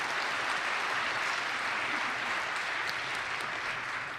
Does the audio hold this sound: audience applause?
yes